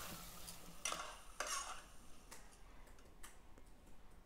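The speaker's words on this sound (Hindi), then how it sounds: "इसको मिक्स कर लीजिए" Quiet scraping of a spoon stirring fried potato and vegetables in a pan, a few soft strokes with a faint sizzle underneath, close by.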